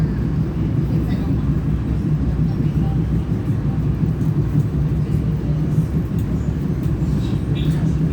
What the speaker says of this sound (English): Get to experience the train ride with us.